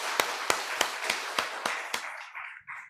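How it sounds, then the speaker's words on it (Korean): During a Korean Sunday church worship service, a congregation claps in an even, steady rhythm of about seven sharp, close beats, then the claps soften and trail off near the end. "박수로 환영하시겠습니다"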